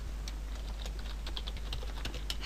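Computer keyboard typing as text goes into a form label, a quick run of light key clicks, fairly faint over a low hum, with no voice.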